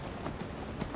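Horses galloping in Skyrim, a quick run of hoof clip-clops over a steady background hum, with faint voice traces.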